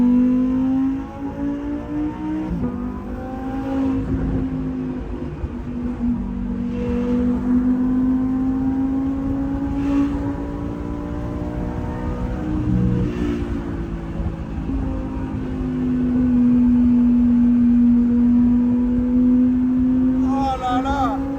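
A Lamborghini Huracan Performante Spyder's engine sings steadily while driving, its loud tone rising and falling through gear changes with brief revving surges, close and continuous for the whole stretch.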